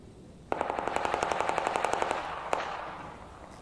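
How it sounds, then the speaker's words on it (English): Automatic gunfire in the video game Arc Raiders near the lift at an extraction point, a rapid burst of about twenty evenly spaced shots over two seconds, then one more sharp shot with a fading tail. "There's a lot of gunfire near the lift."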